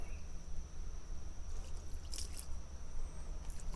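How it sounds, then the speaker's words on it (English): Soapy water poured over a tire to hunt for a leak, a soft continuous trickle and splash close by, with a steady hum underneath and a few brief high hisses. "let's put some soapy water on this tire and see if we can find any bubbles"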